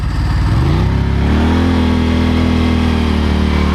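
A 1995 Ducati 900SS SP motorcycle engine rumbles loud and close, its pitch climbing briefly as it accelerates and then settling into a steady drone, with no speech.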